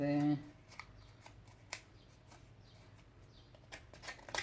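Paper is torn for a vintage mixed-media collage: a few short, dry ripping bursts spread across the clip, close and fairly quiet, after a brief tone at the start.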